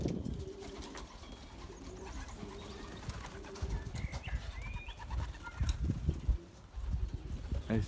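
Pigeons, young grizzles among them, shuffle and coo on a loft landing board in cold weather outdoors: soft cooing and wing flutters, moderately close, with light background noise and no speech.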